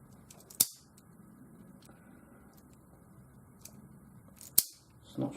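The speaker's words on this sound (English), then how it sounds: "Alright, and that just strips the wire just a little bit there." Wire stripper snipping and stripping insulation from an electrical wire while converting a two-prong plug to three-prong, two sharp close clicks a few seconds apart over quiet background, no talking.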